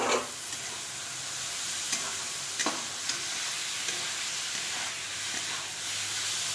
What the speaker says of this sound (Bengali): এটাও একটু ভালো করে ভেজে নিলাম মশলার সঙ্গে